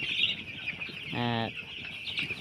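A six-day-old chick on a poultry farm gives one short, clear cluck-like call against a background of continuous high-pitched peeping from many chicks.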